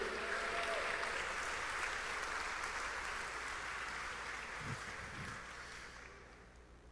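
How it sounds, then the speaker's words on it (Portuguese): A church congregation claps for Jesus in steady, sustained applause that slowly fades toward the end, fairly distant and soft, with a couple of low thumps near the close. "Pode dar uma salva de palmas para Jesus?"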